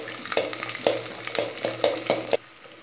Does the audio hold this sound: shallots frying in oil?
yes